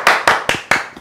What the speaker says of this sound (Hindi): आपकी और मेरी भरपूर तालियों में मौजूद है फायजा